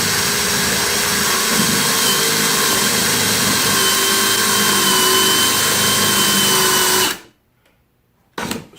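A step drill bit bores an inch-wide hole through plastic, its steady high-pitched whine running loud for about seven seconds before stopping abruptly, followed by a brief short burst near the end.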